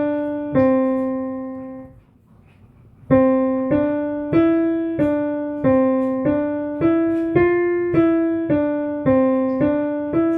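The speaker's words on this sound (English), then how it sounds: "the additive pentatonic scale sounds like this." A melodic additive pentatonic scale plays as separate plucked or struck pitched notes, one sounding alone, then a short pause, then a steady run of evenly spaced notes, each decaying quickly, close and clear with no voices.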